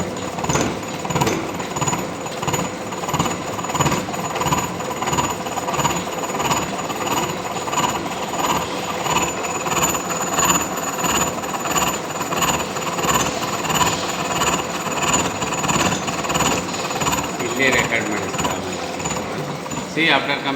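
A milling machine cuts a spur gear while the workpiece is fed up against the rotating cutter, giving a steady, loud, continuous mechanical grind with rapid chattering pulses that runs throughout without a break.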